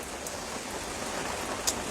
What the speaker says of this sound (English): the rain fell, and the wind blew, and the walls of the cottage still shook.